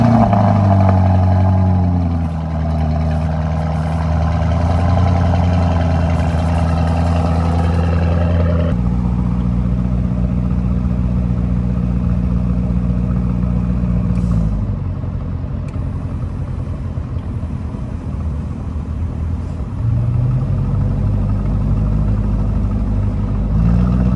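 A 2021 Lamborghini Urus SUV engine starts and runs, giving a loud, close, deep rumble with changing tones and a few revs rising and falling over a steady idle.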